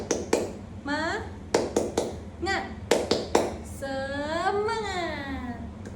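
Children and an adult chant together in an Indonesian classroom clapping cheer, with sharp, rhythmic hand claps punctuating the voices in a lively group pattern.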